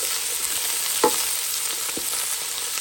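Onions frying in a pot for a Réunion-style rougail of andouillette sausage, a steady close hiss and crackle with one brief stir or clink partway through, no voices.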